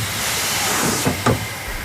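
Steam hisses steadily from steam-powered machinery at a paper mill in Sittingbourne, a loud broad rushing hiss with a couple of brief stronger puffs near the end.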